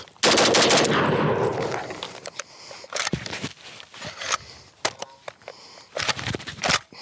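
1911 pistol fired in a quick burst of rapid close shots, then several scattered single reports with handling clicks and rustle between them.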